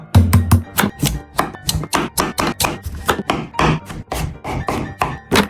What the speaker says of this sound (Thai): มาปอกเปลือกแล้วก็หั่นให้เป็นแท่งๆครับ